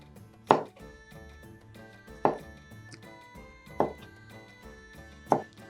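A knife chops through a peeled beet on a cutting board in four sharp, evenly spaced thuds, each crisp and close, with quiet pauses between them.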